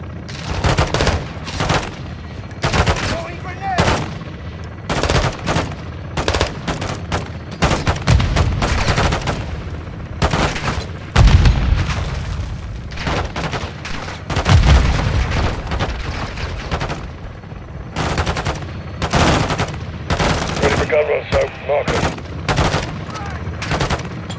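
Call of Duty: Modern Warfare II campaign combat: rapid bursts of automatic gunfire and sharp shots crackle densely, broken by heavier booms of a grenade blast, loud and sustained with brief shouted voices.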